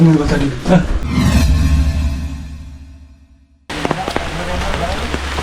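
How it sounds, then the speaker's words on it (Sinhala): Heavy rain pours steadily near a cave pool site in Sri Lanka, a dense broadband hiss that fades briefly before resuming at full strength. "හොඳටම වහිනවා."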